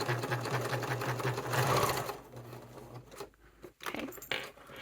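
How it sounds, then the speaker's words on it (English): A sewing machine stitches over a bag seam, humming steadily and close for about two seconds before slowing and stopping, followed by scattered clicks and fabric handling. "I'm also going to sew over it just for a little extra security."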